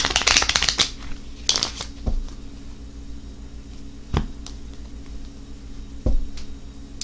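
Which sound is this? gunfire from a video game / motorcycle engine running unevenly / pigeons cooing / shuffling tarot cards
shuffling tarot cards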